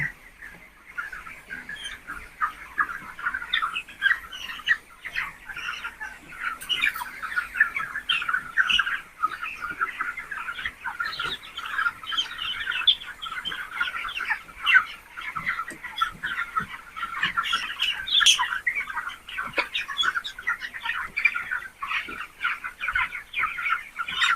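Chickens on a poultry farm, a dense continuous chorus of clucking and chirping from many birds at moderate distance, fairly faint and steady with no voices.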